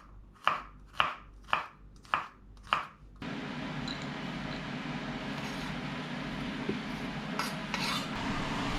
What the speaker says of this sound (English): now let's chop up the garlics